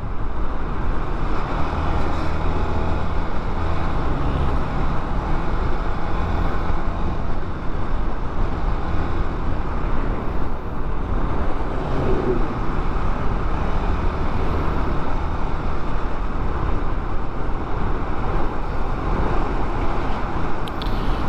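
Dense, unbroken roar of heavy road traffic on the route from Ilang-Ilang, Brgy South, to Brgy. Labangal, Makar, loud and close, with rumbling engines and possible wind buffeting but no speech.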